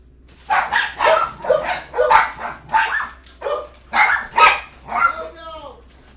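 A person imitates a dog barking restlessly during a storm with a string of about ten rhythmic vocal barks and yips, close and loud, ending in a trailing whine.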